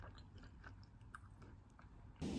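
Someone eats a large rice cracker, with soft crunchy bites and chewing close by, steady and fairly quiet, ending in a louder rustle.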